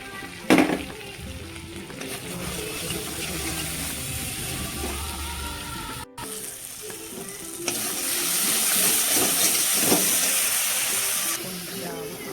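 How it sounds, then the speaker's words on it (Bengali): A paste of cashew, cumin and ginger masala frying in a pan, hissing and sizzling steadily while it is stirred, with scraping knocks and a louder sizzle near the end; a voice talks faintly in the background. "কাজু, জিরা বাটা, আদা বাটাটা আগে ভালো করে নাড়াচাড়া করে মশলাটা করে ভেজে নিব"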